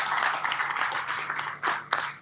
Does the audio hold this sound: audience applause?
yes